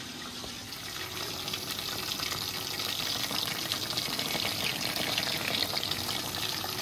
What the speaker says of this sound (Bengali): এইভাবে হালকা দিয়ে ভাজতে দেবো